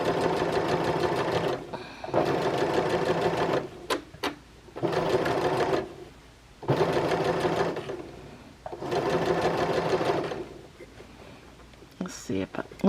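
A domestic sewing machine stitching a dress runs in several bursts of steady mechanical whirring, each a couple of seconds long. Short pauses and clicks separate the bursts.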